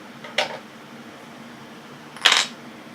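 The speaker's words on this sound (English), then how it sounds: "Now, let's put the screws back in." Small screws clink and rattle twice while a drone is being reassembled during a repair, two short bright metallic taps against a quiet background.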